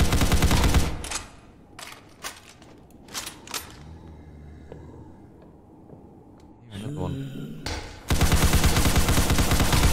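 Gunfire from a Roblox game as a full magazine is emptied, with bursts of rapid loud shots at the start and end and scattered single shots between, no talking heard.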